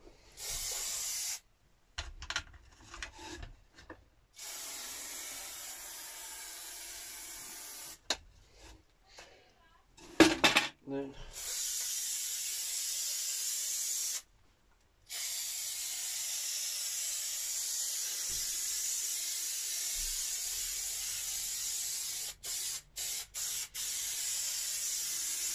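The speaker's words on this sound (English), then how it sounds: "Make sure to spray the sides as well." An aerosol can sprays the sides of a wooden cupboard door in a camper van conversion, giving long, close hissing bursts broken by short gaps and a few quick spurts near the end.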